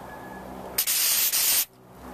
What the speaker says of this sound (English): just stand back here and just spray it